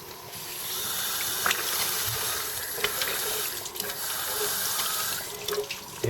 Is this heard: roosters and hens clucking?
no